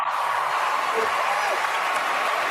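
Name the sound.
audience clapping in played clip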